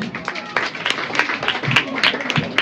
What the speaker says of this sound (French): On l'applaudit, c'est bien.